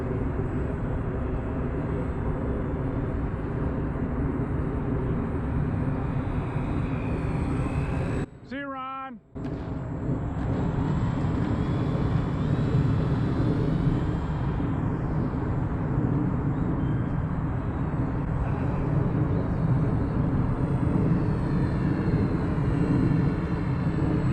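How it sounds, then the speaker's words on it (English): A Dynam Waco 50-inch RC biplane's electric motor drones steadily with rushing wind noise, cutting out briefly partway through before the buzzing whine resumes and carries on evenly. "Really happy with the power of the plane."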